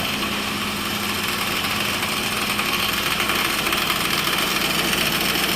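A car engine with a fuel-economy problem and a check engine light runs steadily at idle, a loud continuous drone with a faint rattling buzz layered over it throughout.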